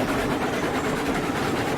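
A train runs steadily in the video game RailRoads Online, giving a continuous rumbling, rolling noise at an even level with faint rhythmic clatter and no talk.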